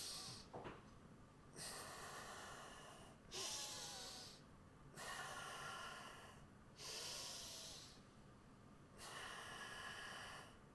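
Slow, deep breathing exercise with no talking: five or six long, loud, close breaths in a steady rhythm, each a few seconds of airy rushing through the nose and mouth, some with a snorting edge.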